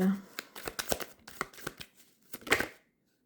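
Tarot cards shuffled for a general draw, a quick run of crisp riffling bursts and slaps up close, pausing briefly before a final burst, with a voice speaking over the card sounds.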